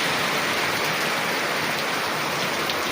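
Heavy rain pours steadily, a dense, unbroken hiss of water falling on surfaces with no pauses.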